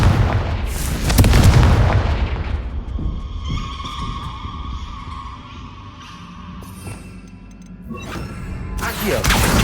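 A fiery Confringo spell explosion from the video game Hogwarts Legacy erupts as a loud, close blast with a booming low rumble, followed by crackling debris and a trailing roar, with a second surge at the end.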